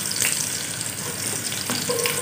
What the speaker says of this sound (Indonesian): Dan goreng lama-lama ya. Goreng sekejap, lepas tu kita angkat.